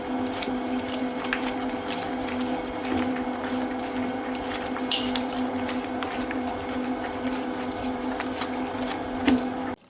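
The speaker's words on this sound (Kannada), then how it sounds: "ಇವಾಗ ಮಸಾಲವನ್ನು ಗ್ರೈಂಡ್ ಮಾಡಲಿಕ್ಕೆ ಹಾಕಿ ಆಯಿತು" A kitchen grinder runs steadily through a masala of cumin, turmeric and grated coconut, a continuous mechanical whir with rattling clicks and faint ticking, no voices.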